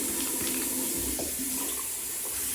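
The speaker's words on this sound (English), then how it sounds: "I'm going to fill this up with water." Tap water running steadily into a container, a continuous broadband rush with slight splashing, fairly close and loud throughout, with no talk.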